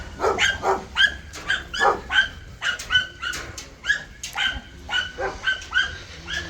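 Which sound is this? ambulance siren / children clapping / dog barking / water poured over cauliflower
dog barking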